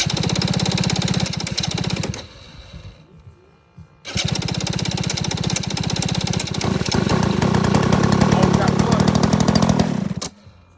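An EME 60 gas engine on a Seagull Models A-1 Sky Raider with auto start fires up and runs with a loud, buzzing roar, cutting out briefly and restarting, then ramping higher before shutting off as people talk nearby.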